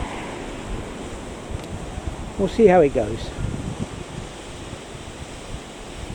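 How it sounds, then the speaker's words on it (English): Strong, blustery wind by the sea in Scotland buffets the microphone in a steady rumble with faint surf beneath, while someone speaks briefly partway through. "but it's awfully windy."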